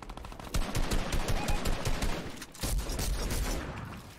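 A video game arena match fills with a rapid, sustained volley of gunfire, loud and continuous with a brief break partway through.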